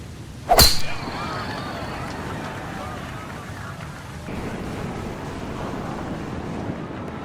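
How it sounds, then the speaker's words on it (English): Steady ocean surf rolls below a clifftop golf course on the Pacific at Bandon Dunes in EA Sports PGA Tour, a soft continuous wash with a sharp swing impact near the start and a voice over it. "start to hear the crashing waves below"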